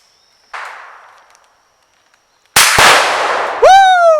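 A rifle shot setting off a Tannerite target on a mannequin head outdoors, a sharp crack with a hissing tail, then a loud close blast that rings on, followed by a shrill whistling tone.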